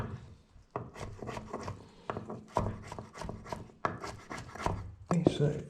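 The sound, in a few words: knife mashing chickpeas on a board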